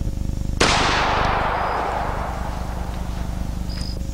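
A single sharp gunshot from a handgun with a Van Comp barrel, fired one-handed outdoors, cracking loudly and close, then ringing out in a long fading tail over a steady insect-like buzz.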